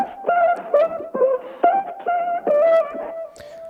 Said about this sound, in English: we have Echo Boy, my go-to delay plugin, just to give it some space.